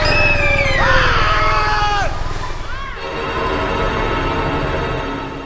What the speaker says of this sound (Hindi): मसानी पेड़ों के चीखने चिल्लाने की भयानक आवाजें अंधेरे में गूंज रही थी